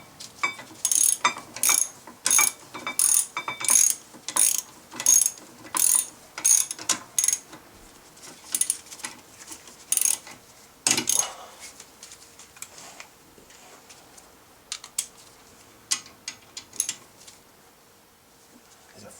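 A hand ratchet clicks in quick bursts as bolts are tightened on a 1999-2001 Volvo S60 front wheel bearing and brake bracket, close and sharp, regular strokes at first, then sparser, scattered clicks and clanks.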